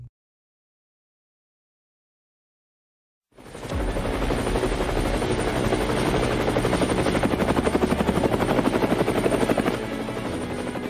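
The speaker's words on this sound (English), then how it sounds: "Helicopters, helicopters, helicopters." After a few seconds of silence, a helicopter's rotor thumps in loud and steady, a rapid chopping drone that holds close and constant.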